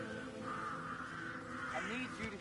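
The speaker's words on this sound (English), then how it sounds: "I'll never get rid of those stupid birds." Crows caw in the Hitman 3 video game, several harsh calls rising over a steady outdoor ambient drone, fairly distant.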